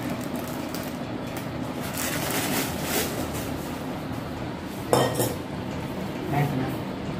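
Brass and copper cookware, including double-polished copper tumblers, clinks and clatters as it is handled, with a steady background of rustling and a sharper clank near the middle, then a softer one later.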